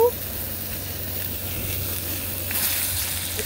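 Angus sirloin steak with salt and pepper sizzles steadily on an outdoor picnic grill by a creek, a faint, constant frying hiss with no break.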